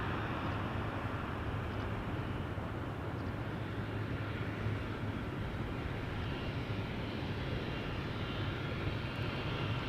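A Ryanair jet airliner bound for Dublin passes near Schiphol's Polderbaan runway, its engines making a broad, steady roar that holds at a constant level for about ten seconds.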